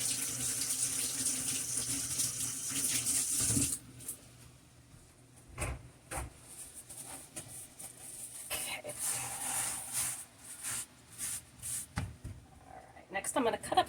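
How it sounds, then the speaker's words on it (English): Running tap water rinses avocado-covered hands at a kitchen sink, a steady close splash that changes to uneven gushes and drips as the hands move under the stream, with a voice talking over it. "let me rinse my hands since I'm covered in avocado."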